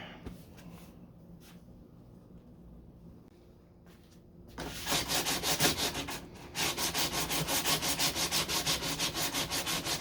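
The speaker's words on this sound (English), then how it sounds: "I just got 80 grit, and I just need to get along the edges here" Coarse 80-grit sandpaper rubs along the edges of a 1969 Corvette deck lid, quiet at first, then loud, fast back-and-forth strokes in a steady rhythm close to the microphone.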